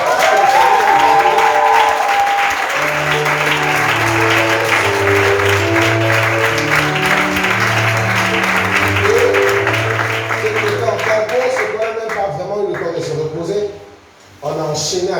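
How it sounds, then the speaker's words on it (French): A church congregation applauds loudly and steadily for about twelve seconds over voices and music, then the clapping thins out and briefly drops away near the end. "je voudrais qu'on acclame"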